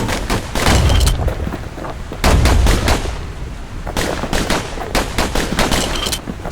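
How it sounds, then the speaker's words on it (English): Twin slinger pistols fire rapidly in the video game Bastion, loud clustered bursts of sharp shots with heavy booming impacts, repeating in quick volleys throughout. "You know what's better than having a slinger pistol in a fight?"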